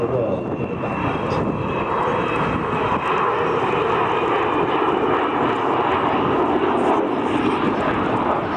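Avro Vulcan bomber jet flying at the Scottish Airshow at Low Green, Ayr, giving a loud, steady broadband engine roar that holds without a break for the whole stretch, with no voices over it.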